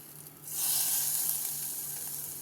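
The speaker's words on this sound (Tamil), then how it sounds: "இப்போ எண்ணெய் ஊற்றி கடுகு, உளுத்தம்பருப்பு, பெருங்காயம், கருவேப்பிலை தாளித்து" Mustard seeds, urad dal, asafoetida and curry leaves drop into hot oil for a South Indian tempering over chow chow kootu, bursting into a loud, steady sizzle that swells after a brief quiet start and holds alone.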